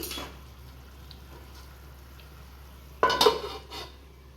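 A spoon stirs a Gujarati whole-onion curry in a pot. Faint scrapes are followed by a brief, louder clatter of metal against the pot near the end, over a low steady hum.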